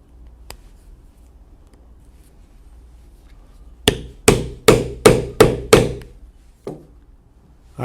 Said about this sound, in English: attach the rivets here the same way we did before, going through both the lining and the hair-on cowl